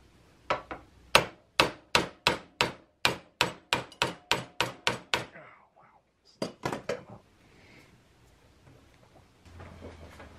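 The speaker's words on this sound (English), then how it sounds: "Probably gonna want to have to use a hammer." A hammer strikes the shock clevis on a KX100 motorcycle during a shock swap: a fast run of about fifteen sharp metallic blows, then a pause, then a few more hits, loud and close.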